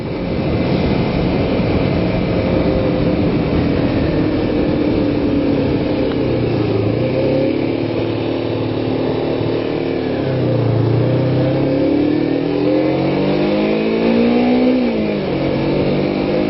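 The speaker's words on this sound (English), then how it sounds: "It's idling pretty high right now." A Kawasaki Ninja 250 motorcycle engine runs at a high idle after a cold start with the choke on, giving a loud, close, continuous drone whose pitch rises and falls several times, with no voices.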